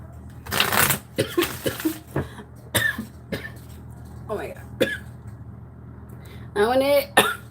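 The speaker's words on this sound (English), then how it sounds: "please don't cough." A person coughs in several close, harsh bursts with short pauses between them, followed by a voice speaking at the end.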